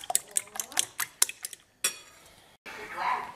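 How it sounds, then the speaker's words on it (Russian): A fork or whisk clatters rapidly against a bowl while two eggs are beaten for French toast, a quick run of close, sharp clinks followed by softer scraping. "Здесь я взбиваю два яйца."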